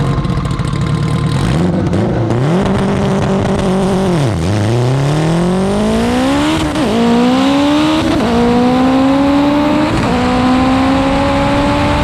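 AWD turbo K20-powered Honda EG at a drag strip revs and launches, its engine pitch climbing through repeated gear changes in a loud, rising wail that stays close and dominant throughout.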